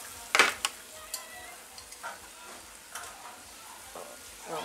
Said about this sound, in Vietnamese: Còn đây cá chiên mới trở rồi.